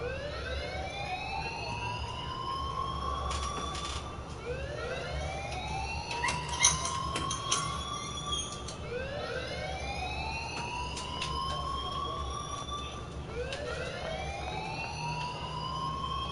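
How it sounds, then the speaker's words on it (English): An alarm wails in a video game, a rising siren sweep repeating about every three seconds over a low steady hum, moderately loud with no talking. "please turn off that alarm since that's your job"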